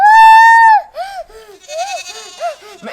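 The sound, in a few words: goat bleating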